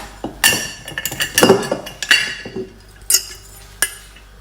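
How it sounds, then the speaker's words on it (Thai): A metal wok clanks and clinks several times as it is set on the stove, with scattered knocks and a faint rattle of cookware close by. "ค่ะเราก็ตั้งกระทะนะคะให้ร้อนนะคะ"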